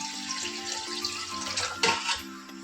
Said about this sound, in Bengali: চালটাকে ধুয়ে নিলাম